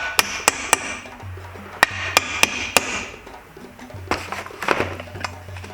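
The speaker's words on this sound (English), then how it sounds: "I might help myself with a hammer" A hammer taps sharply at a kickstart spring being fitted on a Phantom F12 motorcycle, several crisp metallic strikes in an irregular series, close and clear, with softer tool knocks afterward.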